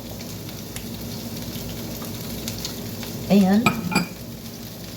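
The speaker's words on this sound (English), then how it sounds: "Just going to saute these down." Peppers and other vegetables sauté in a skillet for a beef and rice casserole, a steady low sizzle running throughout with a brief louder burst of stirring and utensil scraping near the end.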